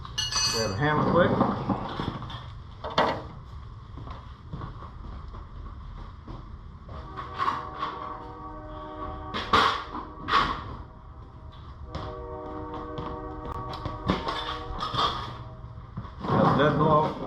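Several sharp knocks ring out at irregular intervals as a dead blow hammer knocks a bolt out during a coil lift install on a 2006 Mega Cab truck, with quieter clinks and shuffling between them.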